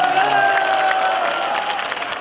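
Loud applause from an audience at a residents' meeting on relocating the Daegu military and civilian airport, a steady close wash of clapping with a faint tonal ring underneath.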